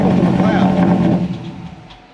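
An LS6 engine in a car under repair, valve covers off, roars loudly at startup, then the rumble fades toward a quieter idle, with people talking over it.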